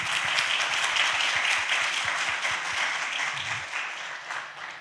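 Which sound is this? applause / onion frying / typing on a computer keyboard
applause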